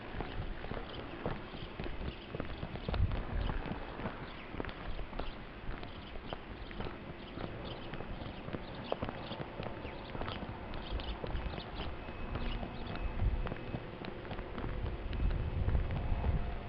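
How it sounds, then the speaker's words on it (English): Horses walking outdoors on a gusty day. Soft, irregular hoof clip-clops sound at a distance through rumbling wind noise on the microphone, and no voices are heard. "Horses."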